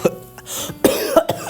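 Close, harsh coughing in several bursts, with a throat-clearing rasp between them, loud and near.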